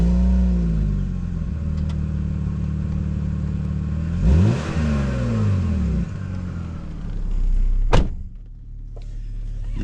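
A BMW 325xi E46 Touring's warm engine runs at a steady close idle with strong low harmonics, rising in a short rev around the midpoint, then a sharp transient near the end before it settles back.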